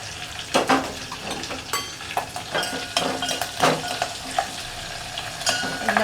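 Curry leaves and green chilies crackle and sizzle in hot oil, a close, steady frying hiss broken by sharp pops and the scrape of stirring, with no talking.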